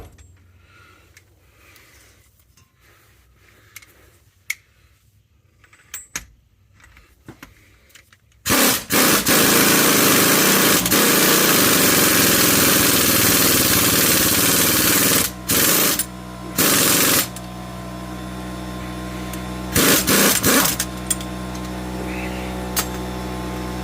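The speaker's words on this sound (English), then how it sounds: "I'm sure this will kick our little air compressor on." A small air compressor hooked up in a garage while test fitting a CD009 transmission in an LS-swapped third-gen Camaro kicks on abruptly, a loud steady mechanical roar with brief interruptions and clattering, after a quiet stretch of workshop noises.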